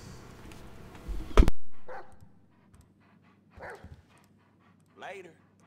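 A dog named Chop in a video game barks several times, with short loud barks spaced a second or two apart after a brief burst of other game noise, and a voice talks early on.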